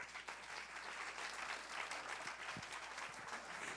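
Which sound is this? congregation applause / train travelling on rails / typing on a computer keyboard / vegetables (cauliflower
congregation applause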